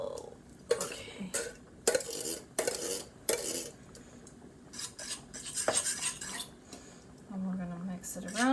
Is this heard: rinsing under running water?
no